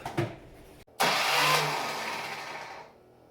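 A Harley-Davidson Ironhead motorcycle engine cranks briefly, falls silent for a moment, then catches with a loud burst that settles into a fading, rough run before dying down.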